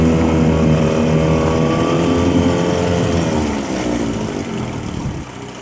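A 1979 Johnson 9.9 hp outboard motor runs on a pond, giving a loud, close, steady engine drone whose pitch slides down slightly toward the end.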